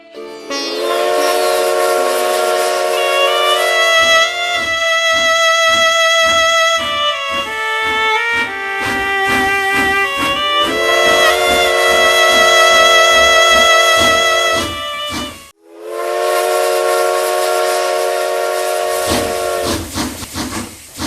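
Train running with a steam whistle: long, loud tonal whistle blasts sustained over steady rumbling and hiss, with rhythmic chugging pulses in the middle and a brief pause before another long blast.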